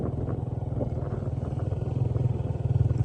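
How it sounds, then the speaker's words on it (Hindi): A motorcycle putters along a wet village road after heavy rain, its engine a steady low chugging throb heard from the rider's position, with faint rattling over the bumps. "एक हाथ से मैं मोटरसाइकिल चला रहा हूँ"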